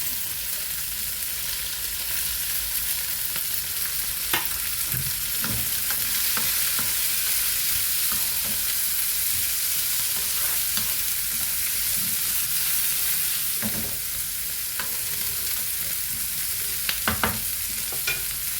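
Onions and curry leaves fry in a pan for egg masala curry with a loud, unbroken hiss, while occasional clicks and scrapes from stirring poke through, close up with no voices.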